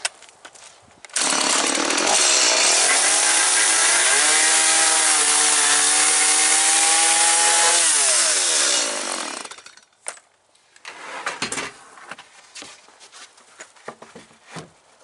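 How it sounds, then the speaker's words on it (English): A chainsaw roars nearby for several seconds, its pitch dropping as it bites into wood, then winds down to idle, sputtering clatter. "I've been making all these cuts with the chainsaw"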